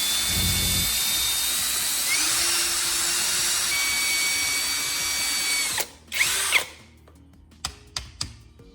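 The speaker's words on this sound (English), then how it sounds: "use a hand drill and slowly drill straight through the center of the handle from end to end" A hand drill whines steadily at close range for several seconds as it bores through a Gillette razor handle, then stops, followed by a few sharp clicks and clatters.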